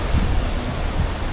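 Steady, noisy wash of heavy rain falling on a jeep camper boarding a ship, a dense continuous hiss with no voices.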